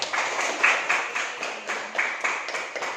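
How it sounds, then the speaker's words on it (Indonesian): Classroom students clapping together in a loose, uneven rhythm, a brief round of moderate applause with individual claps standing out. "Berikan tepuk tangan ya adik-adik ya"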